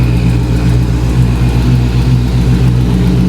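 A Hellcat-powered Magnum's engine revs loud and close, a continuous heavy low rumble with exhaust leak noise, steady throughout with no pauses or speech.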